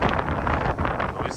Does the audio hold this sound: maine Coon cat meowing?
no